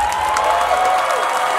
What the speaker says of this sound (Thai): ขอเสียงปรบมือดังๆให้กับรองชนะเลิศอันดับที่1ค่ะ